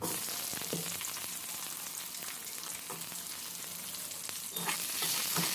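Chopped onion frying in hot oil in a wok, with a continuous loud sizzle and occasional scraping stirs, with no talking over it.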